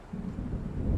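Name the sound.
thunder of an approaching storm in the video game Alan Wake Remastered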